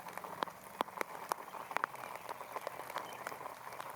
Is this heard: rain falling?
yes